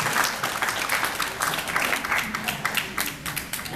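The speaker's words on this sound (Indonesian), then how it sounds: "tepuk tangan untuk teman-teman kita semua." An audience at a school gathering gives steady applause, many hands clapping together at close range in a lively, slightly uneven patter that runs the whole time.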